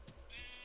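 A single short bleat from a sheep in the video game Minecraft, faint and quick, sounding alone without talk.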